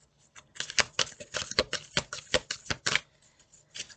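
Tarot cards being shuffled and handled during a reading, a quick run of crisp riffling flicks and taps at close range, with no voice over them.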